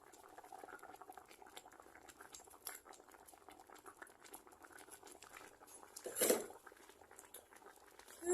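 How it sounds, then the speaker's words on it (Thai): A pot of tilapia fish soup simmers steadily, with soft bubbling and pattering close by. There is a brief louder burst of liquid or pot noise near the end, and no talking. "ต้มไว้ก่อนเนาะ"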